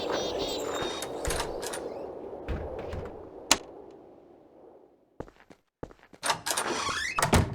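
Inside the video game Garry's Mod, a door unlocks and opens with a sharp click and clunk cutting through steady background noise, followed by a few more distinct knocks and a sliding mechanical rattle.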